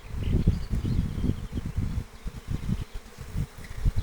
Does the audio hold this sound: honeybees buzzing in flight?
yes